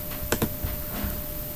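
A computer mouse gives two quick, sharp clicks close together, then a few fainter taps against a steady background hum.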